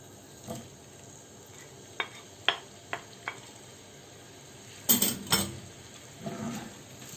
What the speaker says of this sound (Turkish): Harlı ateşte kavuracağım karıştırarak.